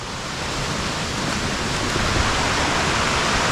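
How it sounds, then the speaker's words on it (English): A waterfall on a hiking trail in the Quehanna Wild area, a loud, steady, broadband roar of rushing water heard close up, with no talking. "he hears another waterfall"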